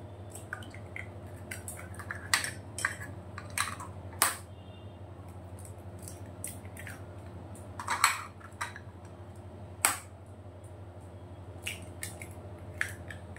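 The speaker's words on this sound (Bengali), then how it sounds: "আমি ডিম আর দুধ একসাথে ফেটে নিয়েছি" Eggs and milk being beaten together in a bowl for caramel pudding, giving irregular light clinks and sloshing taps at close range over a steady low hum, with no talking.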